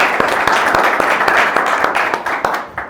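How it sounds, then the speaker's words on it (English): Audience applause for a presenter at a startup pitch event, a lively round of clapping with sharp individual claps standing out over the crowd before fading at the end. "Let's give Ryan a good round of applause"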